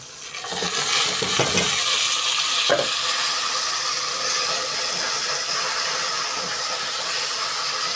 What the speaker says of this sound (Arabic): الشعريه بتتحرق منكم، تخليكم بقى، خلوا بالكم منها